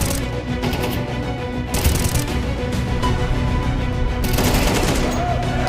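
Gunfire in an esports match broadcast, rapid dense bursts of shots and loud game action continuing throughout, with some commentator speech.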